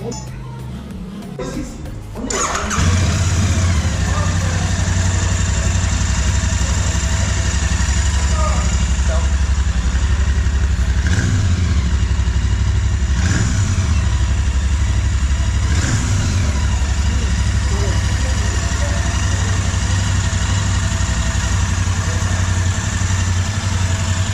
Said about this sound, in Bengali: So let's just switch on the bike.